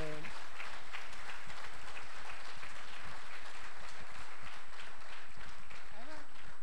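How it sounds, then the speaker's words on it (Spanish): An audience at a public policy seminar clapping continuously, a dense patter of hands under occasional voices. "un aplauso"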